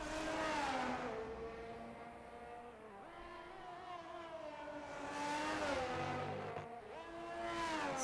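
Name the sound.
Ferrari race car engine in racing game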